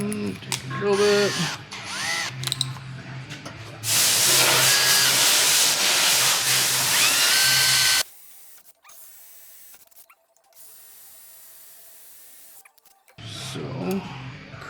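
A power drill whines loudly for a few seconds in a steady burst while drilling during a valve body build, preceded and followed by brief mechanical clatter, then near silence.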